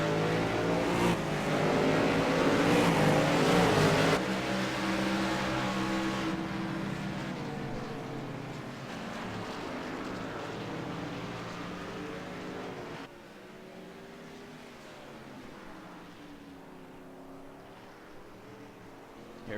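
Race cars roaring around a racetrack, a loud engine drone that rises and falls as cars pass, with pitch sweeps of Doppler-shifted passes, then a quieter, more distant stretch of several cars circulating.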